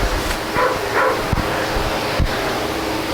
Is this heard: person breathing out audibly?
no